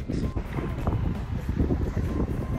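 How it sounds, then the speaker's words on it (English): Strong wind buffets the microphone with a steady low rumble and gusty roar throughout, loud and close. "Right now it's windy as hell."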